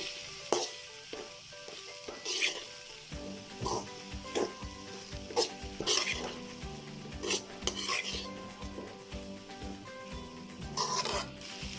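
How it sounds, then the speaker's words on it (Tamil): Puffed rice being stirred for uggani in a pan on a low flame, soft scraping and rustling strokes repeating under a faint background hum, fairly quiet and close. "சிம்மில் வச்சுட்டு எல்லாம் நல்லா மிக்ஸ் பண்ணி விடுங்க"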